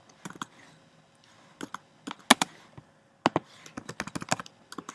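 Typing on a computer keyboard, bursts of crisp close key clicks in uneven clusters separated by short pauses.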